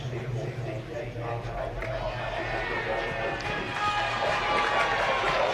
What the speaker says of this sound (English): I have a sneaking suspicion from the way the Cats fans are cheering that it's going to be called a goal